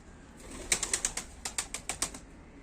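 Pigeons on a training flight beat their wings in a rapid series of about a dozen crisp flaps, close by and otherwise quiet.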